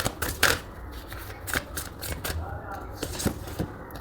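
A deck of tarot cards being shuffled: quick rustling riffles and soft card slaps close by, with brief louder snaps, while a voice talks over part of it.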